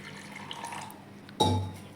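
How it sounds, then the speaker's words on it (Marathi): Water is poured into a cooking pot for a breakfast dish: one short, splashy fill lasting about half a second that rises suddenly and then fades, following a quiet kitchen background. "इकडे भांडं घेतलं आहे, पाणी टाकून घेऊ आपण"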